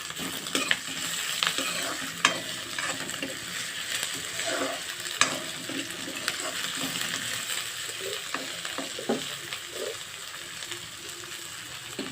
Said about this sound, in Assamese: গোন্ধটো যোৱালৈকে ভাজি ল'ম